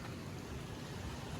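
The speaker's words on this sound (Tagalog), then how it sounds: "Umuulan na." Steady, dense rain falling outdoors during a tropical storm, a continuous even hiss with no pauses and no voices.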